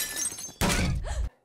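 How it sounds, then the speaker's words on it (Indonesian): A bird slams into a window pane, a sudden loud crash with a brief burst of noise that cuts off abruptly, heard in a film scene. "Casey mendengar suara keras seperti sesuatu menabrak kaca jendela."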